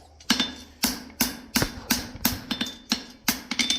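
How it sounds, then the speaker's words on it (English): Steady hammer blows ring out on a back punch set into a forged plain stamp baby horseshoe slider. About a dozen sharp metallic strikes land close by in an uneven rhythm, some coming in quick pairs, and no one speaks. "Hit it with our back punch just a little bit."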